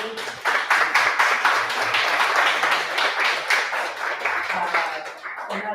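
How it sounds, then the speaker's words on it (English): Audience applause after a talk on building a real estate portfolio with hard money, with dense clapping that runs steadily for several seconds and then thins, mixed with faint voices underneath. "All right, let's give him a round of applause, Anthony."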